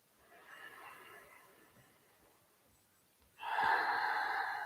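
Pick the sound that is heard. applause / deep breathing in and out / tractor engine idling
deep breathing in and out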